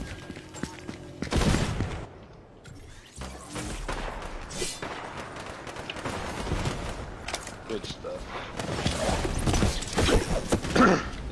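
Gunfire from a hunting rifle in the shooter game Apex Legends, loud bursts and clattering weapon sounds mixed with game effects and someone talking over them.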